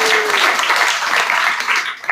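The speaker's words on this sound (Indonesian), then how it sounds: "Ada tepuk tangan dulu yang meriah." Lively applause fills a church prayer gathering, a dense steady wash of many hands clapping together that fades slightly at the end.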